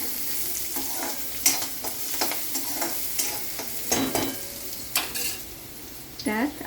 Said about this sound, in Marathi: त्यात कांदा आणि मिरची बारीक केलेली फ्राय करावे. तळावे परतून घ्यावे.